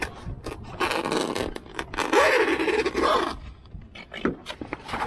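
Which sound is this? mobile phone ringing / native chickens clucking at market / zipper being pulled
zipper being pulled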